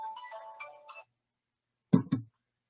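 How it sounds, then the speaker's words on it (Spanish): A mobile phone ringtone left in a church conference hall gives a short melodic chime, then falls silent before two brief low thumps, fairly close and moderately loud with no speech over it. "está sonando este teléfono que lo dejé aquí"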